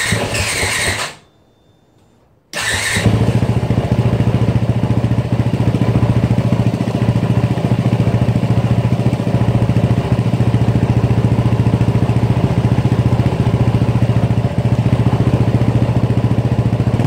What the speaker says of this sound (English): So I'm going to start the bike now.